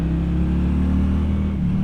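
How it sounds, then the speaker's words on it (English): A 2024 Honda Shadow Phantom V-twin with factory exhaust idles and revs in a deep, loud, close, steady burble with a slight rise and fall in engine pitch; no voices. "getting back on a good burly V-twin. They've got a great exhaust from the factory."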